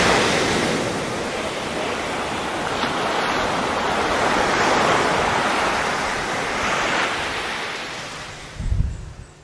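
Surf breaking along the Jersey Shore at Island Beach State Park, a steady broadband roar of waves with gusty wind on the microphone and a low thump near the end.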